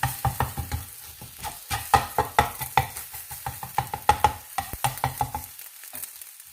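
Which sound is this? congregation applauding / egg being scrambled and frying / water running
egg being scrambled and frying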